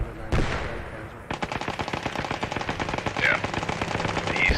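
Bursts of automatic and rifle gunfire in the World War II shooter Post Scriptum, starting with a sharp shot and then rapid repeated cracks, fairly close and continuous, with a faint voice partly underneath.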